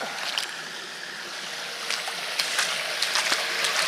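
A shallow stream at Wellhead, Bedfordshire, running low, flows with a steady broadband wash and light trickling splashes, fairly close and continuous with no talk.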